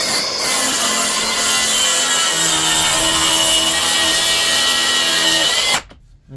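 A track saw trims veneer off a laminate panel, a loud continuous high whine of blade cutting material close up for nearly six seconds before stopping sharply.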